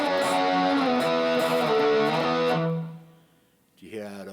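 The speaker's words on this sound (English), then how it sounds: "Now this is 6L6 American rock tones." A distorted electric guitar plays a sustained chord through a 6L6 tube amp in an American rock tone, loud and close. It rings out and fades to near silence, then another chord is struck at the end.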